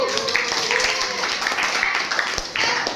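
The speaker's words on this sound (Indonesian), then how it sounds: "gojek tepuk tangan dong buat Ataya" University students in a classroom break into brief applause, with scattered claps mixed with chatter and voices close by.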